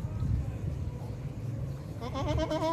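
A Rajanpuri Gulabi goat bleats near the end, a wavering nasal cry rising out of steady low farmyard rumble and muffled background noise.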